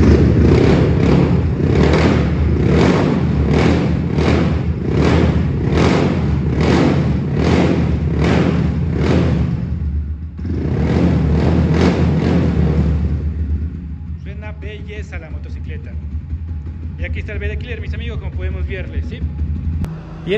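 Daytona Super Wolf 300 and Wolf 250 motorcycle engines run loud and close in a fast rhythmic throb with a brief dip partway. A voice comes in over the engine noise toward the end.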